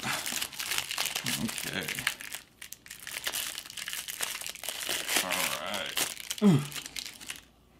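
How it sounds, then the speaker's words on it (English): A deck of board game cards being unwrapped from crinkly plastic, steady close crackling and tearing that runs almost continuously, broken briefly near the middle, with someone speaking a couple of short words over it. "So let's crack out the cards here."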